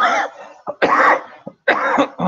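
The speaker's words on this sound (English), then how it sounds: "Excuse me for my cough." A close, loud fit of coughing: several harsh, hacking bursts separated by short gasping pauses.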